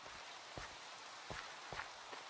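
Rain falls steadily in the survival video game The Crafting Dead, a soft, even hiss with a few faint drop-like taps, heard alone with no talk.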